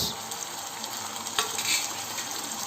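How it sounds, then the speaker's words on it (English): Grated tomatoes go into a pan of frying onions and garlic, raising a steady, fairly loud hiss of sizzling with a brief splash-like burst partway through, no voices. "at this stage I am going to add grated tomatoes, 2 small numbers"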